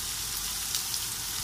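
Meat fries in a pan with a steady, soft sizzle and crackle, fairly quiet and even for the whole short stretch, with no voices.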